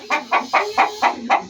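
A pullet hen in a breeding pen clucks six times in a steady, evenly spaced rhythm, close and clear with no voices.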